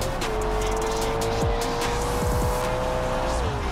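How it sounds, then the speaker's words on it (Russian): A BMW M5 F90 in BeamNG.drive holds a steady, loud engine tone that rises and falls slightly through the run, with brief tire squeals cutting in near the middle and a continuous road rush underneath. "Просто чел решил разогнаться на BMW, и все."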